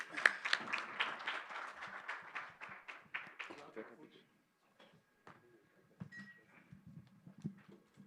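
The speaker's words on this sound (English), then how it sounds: "Let's give them a round of applause." Applause from a forum audience in a Kigali conference hall, brief clapping for panelists at an Eastern Africa investment event that fades after about four seconds into sparse room noise and faint movement.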